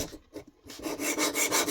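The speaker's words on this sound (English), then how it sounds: "And then sharpen it again, both sides." A knife blade scrapes back and forth across a whetstone in a few short rasping strokes, close and clear with brief pauses between passes, no voices.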